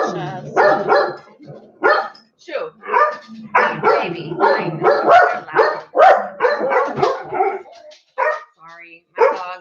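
Pet dogs bark repeatedly indoors, sharp yaps coming in bursts close by, mixed in with a person talking and shooing them.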